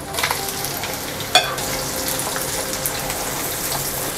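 Garlic and onion sizzle steadily in hot oil in a pan, a dense continuous frying hiss with one brief clink of the spatula partway through.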